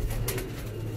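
Pigeons in a breeding loft with nesting birds and young chicks coo steadily, a low, continuous throaty burble of several birds close by.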